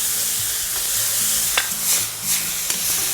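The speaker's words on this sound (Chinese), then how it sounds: "大火快炒给它翻炒均匀" Ingredients are stir-fried over high heat in a wok and seasoned with soy sauce, oyster sauce and sugar. A loud, continuous sizzle is punctuated by a few sharp spatula scrapes and tosses, with no talking.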